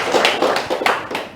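A studio audience at a regional government talk-show forum on road safety for the holiday homecoming route claps hands in short uneven bursts, close and loud, a few distinct claps spaced irregularly.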